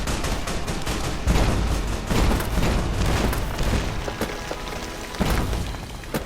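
Enemy gunfire in Fallout: New Vegas, dense and continuous with repeated heavy shots and booms over a constant loud background, no voices.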